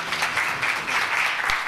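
An audience at an SK Telecom smart-home presentation applauds to welcome a speaker onto the stage, a steady wash of clapping from many hands filling the room without a break.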